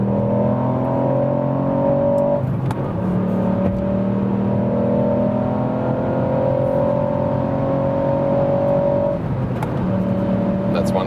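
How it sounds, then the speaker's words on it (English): A Ford Puma ST with a small-displacement three-cylinder engine accelerates hard from about 100 km/h, its engine note rising steadily through each gear with brief dips at upshifts, heard loud and close from inside the cabin. "And now once again acceleration when we are already at speed, going from about 100 kilometers to whatever."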